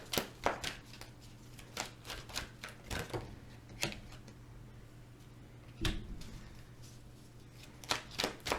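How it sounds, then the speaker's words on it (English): Rapid riffling and clicking of a deck of cards being shuffled, in several short bursts with pauses between, close by. "I can't even get the card shuffled."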